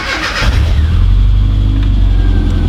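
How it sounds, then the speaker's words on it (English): A classic Mini car engine in neutral cranks and catches, then settles into a loud, close, steady low idle rumble. "we're going to fire up the car and let it cycle a little bit for 30 seconds to a minute"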